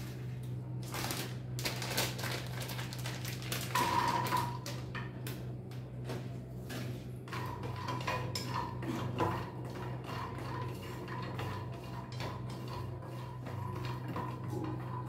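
Walnuts dry-roasting in a pan, giving steady close rattling and clicking as the nuts shift and tumble against the metal over a constant low hum, with no talk.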